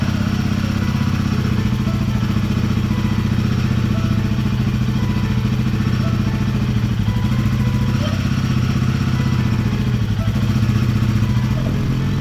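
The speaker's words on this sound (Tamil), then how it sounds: "இப்போ பைக்கில் ஃபஸ்ட் கியரை போட்டு வண்டியை ரன்னிங்கில் விட்டாங்க" A Royal Enfield Guerrilla 450 motorcycle runs in first gear, its engine throbbing steadily and loudly close by for the whole stretch with a faint mechanical clatter.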